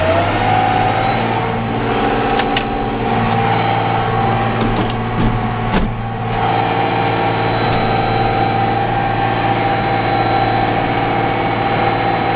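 A loud, steady engine runs continuously at high revs with a constant heavy drone and a few brief clicks partway through, as the hydraulics are raised to deliver a load during tarmac resurfacing of a lane.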